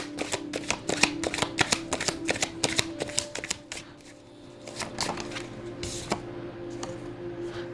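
Tarot cards being shuffled by hand, a rapid run of close, crisp card riffles and slaps, then a brief quieter pause before more softer shuffling and flicks.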